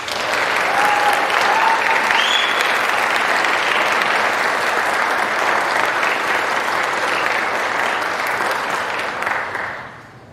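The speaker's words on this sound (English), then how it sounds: "Let's give our inductees a round of applause." An audience applauds inductees at a Phi Theta Kappa induction ceremony, with steady dense clapping filling the room for about nine seconds before it fades out. A brief whistle or cheer rises above it.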